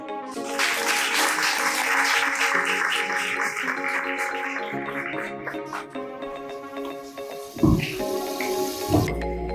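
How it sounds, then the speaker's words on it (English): Audience applause at a conference on AI rises quickly into a dense, loud wash of clapping that holds steady for several seconds, then thins out, with a few isolated bumps near the end. "please give a round of applause to Thiru Dinesh."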